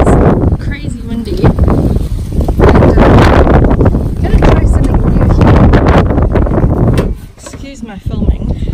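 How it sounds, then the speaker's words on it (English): Loud, constant wind roars and buffets the microphone almost throughout at a dog park, easing briefly near the end, with a voice barely standing out beneath the gusts. "It is crazy windy."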